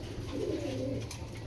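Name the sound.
giribaj pigeons cooing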